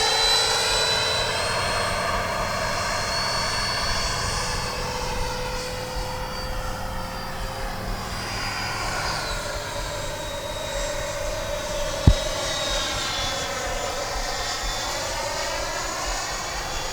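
A Freewing F-22 Raptor RC model jet flies past with a steady high-pitched electric ducted fan whine that shifts in pitch as it passes, plus one sharp click partway through.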